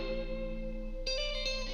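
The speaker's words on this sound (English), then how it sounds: "You hear there's that reverb and the echo." A guitar track processed with reverb and echo, sustained ringing tones that swell with a new strummed attack about halfway through and trail into a wide, airy wash, steady and moderately loud without any voices.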